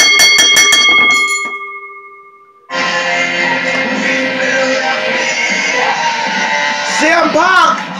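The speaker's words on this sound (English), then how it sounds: "Ring the bell!" A wrestling ring bell clangs in a rapid burst of sharp metallic strikes at an ECW Impact live event. The ringing dies away before crowd roar and an excited commentator's shouting take over.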